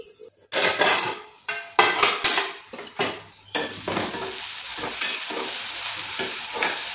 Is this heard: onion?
yes